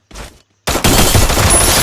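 Gunfire in the mobile shooter Free Fire: a short loud crack, a brief silence, then a dense, sustained blast of rapid shots close up.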